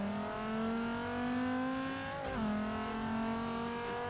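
A car launches in the racing game Forza 6, its engine revving hard and climbing in pitch, then dipping briefly at a gear change before climbing again, loud and continuous with no talking.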